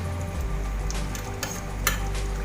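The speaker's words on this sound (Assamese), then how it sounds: "এতিয়া আমি ইয়াতে পনীৰখিনি আমি ডাইৰেক্ট ঢালি দিম।" Paneer for paneer butter masala hits a hot pan and sizzles steadily, close and continuous, with a few faint clinks of utensils and no talking.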